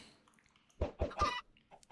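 A short run of three quick Minecraft chicken clucks, fairly soft, with a few faint chirps around them.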